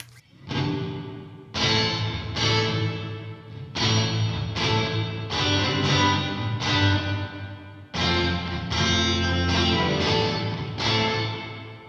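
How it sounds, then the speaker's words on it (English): An electric guitar run through a Line 6 POD Go room reverb with 20 ms pre-delay plays a series of strummed chords, each attack ringing out into a short room tail, loud and alone. "Now we will hear the reverb almost immediately."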